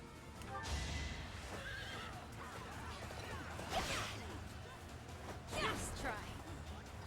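Horse whinnies from the video game Fire Emblem: Three Houses ring out two or three times over rumbling background noise and hoofbeat-like clatter, with swooshing game-like effects between them.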